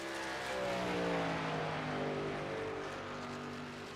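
A race truck in iRacing rolls out onto the Auto Club track, its engine droning steadily with rising and falling harmonic whine, fairly near and loud, with no speech over it.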